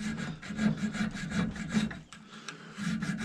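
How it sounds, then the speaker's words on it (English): A hand file rasps in steady back-and-forth strokes on a muzzleloader barrel while a barrel lug dovetail is cut with hand tools, close and moderately loud, with a brief pause before the strokes resume. "I'm going to file a little bit more."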